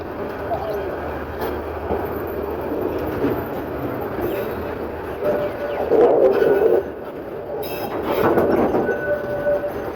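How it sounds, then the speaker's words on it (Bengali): The Karnaphuli commuter train pulls onto line 5 at Akhaura railway station, a steady rolling rumble with rattling wheels and brief squeals, and people talk nearby throughout. "কর্ণফুলী কমিউটার ট্রেনটি আখাউড়া রেল স্টেশনের 5 নম্বর লাইনে এসে প্রবেশ করেছে।"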